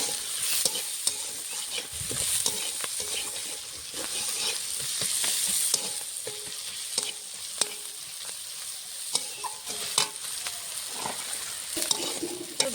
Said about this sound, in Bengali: ভাজার মধ্যে সামান্য একটু নুন দিয়ে দেবো তারপরে ভাজা হবে